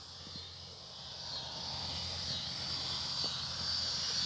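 An E-flite Turbo Timber Evo 1.5 m RC plane flies at low throttle, its electric motor a steady high whine with a faint propeller drone rising slightly in loudness, heard from a short distance.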